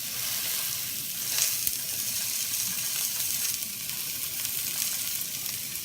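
Steak searing in a hot pan to build a crust, a steady close, loud sizzle and crackle running throughout with no talking.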